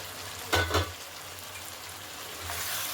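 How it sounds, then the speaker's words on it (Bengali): Fried cauliflower stirred into a spice masala in a pan: a steady close sizzle of frying with two brief scraping stirs near the start and another toward the end, no voices. "এবারে ভেজে রাখা ফুলকপিটা দিয়ে দিলাম"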